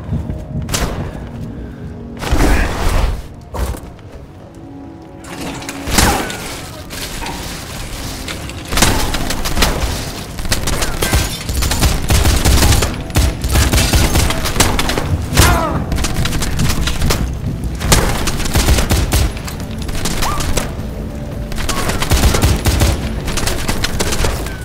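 Heavy gunfire in the shooter game Wanted: Weapons of Fate, with dense bursts of automatic fire and booming thuds that run almost continuously at close range, and scattered voices surface briefly.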